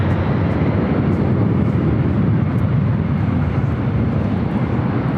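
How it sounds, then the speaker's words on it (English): Delta Airlines Boeing 757-200 airliner taking off bound for Atlanta, heard as a loud, steady, broadband engine roar that holds without letup throughout. "This takeoff is Delta Airlines 8815 taking off to Atlanta on the 757-200"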